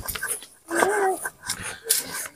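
A dog at a home makes a whining, wheezy vocal, a drawn-out whimpering cry in the middle with shorter bursts around it, close by, with people talking.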